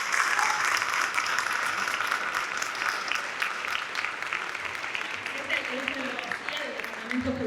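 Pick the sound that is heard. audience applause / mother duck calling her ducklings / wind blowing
audience applause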